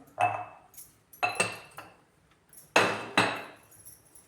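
A spoon stirs salt into a fenugreek stalk mixture in a metal pan, making four distinct clinking, scraping strokes close by, grouped in pairs with short pauses between them, with no talk over them.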